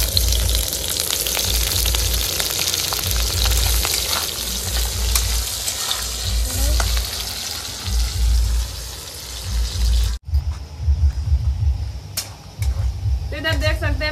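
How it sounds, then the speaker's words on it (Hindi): Onions and chilies hit hot oil in a heated wok while egg chowmein is being cooked, giving a loud, steady sizzle and crackle that drops out briefly before the frying resumes, with occasional clinks over it. "अब इसमें डालेंगे प्याज मिर्चा।"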